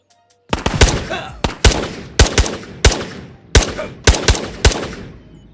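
Loud, sharp gunshots from a VR shooter game on Meta Quest 3, fired in short, spaced bursts of one or two cracks roughly every half second to second, close and dry with no talking.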